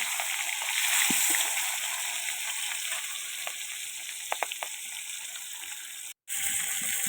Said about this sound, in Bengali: তো এরকম করে আমি সব মাছগুলোই ভেজে নেব